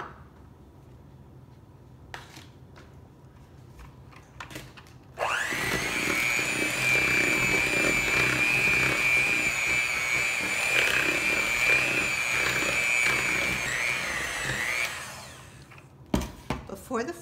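An electric mixer whirs steadily for about ten seconds, mixing cookie dough with vanilla and flour; the motor hum starts abruptly, stays loud and even, then winds down, with faint kitchen clatter before and after.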